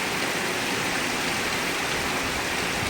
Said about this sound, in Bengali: এই দেখো বৃষ্টি শুরু হয়ে গেছে, একেবারে হুপুর ঝুপুর করে বৃষ্টি পড়ছে